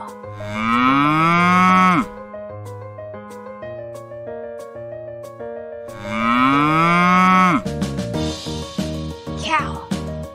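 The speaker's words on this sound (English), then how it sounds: "Cow." A cow moos twice, each a loud, long, drawn-out low call lasting about two seconds, with a bright backing tune playing throughout.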